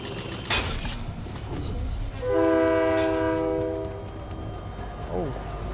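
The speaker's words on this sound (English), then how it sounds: "Train." A passing train sounds one long, loud horn blast over a low rolling rumble, with a brief voice nearby.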